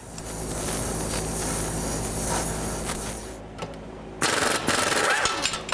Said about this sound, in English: I'm actually gonna have to use a torch and just heat the nut up real hot, red hot